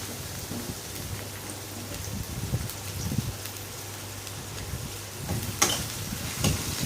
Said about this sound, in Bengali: আমি রসুন দিয়ে দিচ্ছি দিয়ে একটু লাড়াচাড়া দিচ্ছি